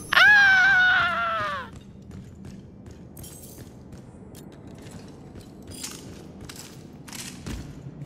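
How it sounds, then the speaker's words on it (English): A man's drawn-out scream in the Red Faction Armageddon video game, loud and wavering for about a second and a half, then cut off into quiet mechanical ambience with faint clicks. "You're gonna scream, scream like a man."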